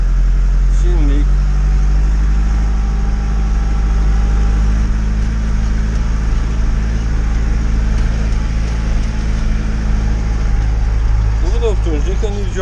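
A Massey Ferguson 3060 tractor engine running cold, a steady low diesel drone that holds throughout while someone talks over it close by.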